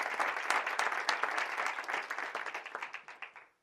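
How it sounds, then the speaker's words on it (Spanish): Applause from an audience at an addiction-treatment association's 2024 talk, a dense steady clatter of many hands lasting several seconds and thinning toward the end, with no talk over it. "Un aplauso muy fuerte para esta asociación tan maravillosa"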